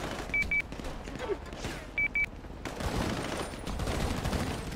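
Gunfire in a bank-robbery shootout within a roleplay video game, with two short bursts of paired beeping tones early on over a steady rumbling background that swells louder in the second half.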